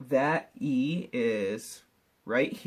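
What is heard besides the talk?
No everyday noise stands out behind the speech.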